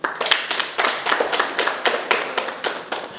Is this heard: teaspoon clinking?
no